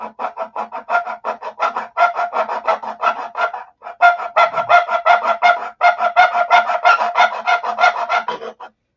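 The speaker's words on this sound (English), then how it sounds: "What I'm doing here is sanding out the fuel tank outlet hole so that it matches perfectly with the cowl." Sandpaper rasps in quick repeated strokes against hardened, filled balsa on a SIG Magnum model plane, opening out the fuel tank outlet hole to match the cowl; close, rhythmic scratching with brief pauses and no talk.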